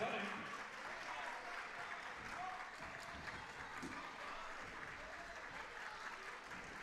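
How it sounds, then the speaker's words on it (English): A high school student section at a Minnesota girls' volleyball match, Breckenridge against Hawley, cheers and claps for the Nuggets, sustained crowd applause and shouting in a gym with an announcer's voice running over it. "Student section cheering around here for the Nuggets"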